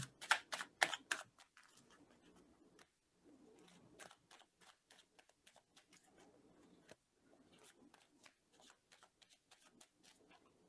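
Soft, close shuffling of tarot cards, a flurry of quick slaps and flicks that keeps going in irregular bursts with brief pauses.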